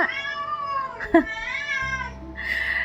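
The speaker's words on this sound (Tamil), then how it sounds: "அதனால தான் உங்களுக்கு பூனையோட சவுண்ட் வந்து கேட்டுகிட்டே இருக்குது" A cat meows several times close by in a kitchen, drawn-out wavering calls with short gaps and a faint background hum.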